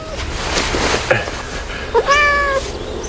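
A pet cat meows close by in a quiet room, two or three short plaintive cries, with faint background murmur.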